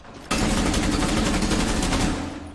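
Sustained rapid gunfire in a video game, a continuous loud automatic burst running for about two seconds after a brief quiet lead-in, then easing off slightly.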